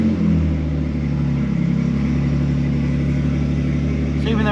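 A Pontiac G car engine idles in a garage with a steady, low rumbling hum, close and continuous, while a person talks over it.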